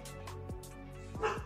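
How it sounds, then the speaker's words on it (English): A dog barks several times in quick yips and woofs, close and fairly loud, with a steady hum underneath. "that's my dog"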